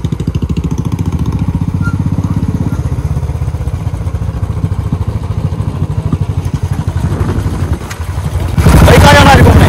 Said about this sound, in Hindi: बाइक को बाइक बंद करो